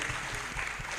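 Applause from an audience at a live public forum meeting, a short burst of dense clapping that fills the whole moment with no voices over it.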